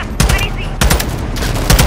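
Loud machine gun fire in Call of Duty Modern Warfare 2, with several rapid bursts at close range, each cluster of shots separated by brief pauses.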